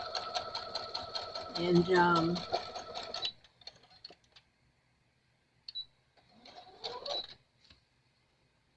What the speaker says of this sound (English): And I put the top stitch pretty close to the seam.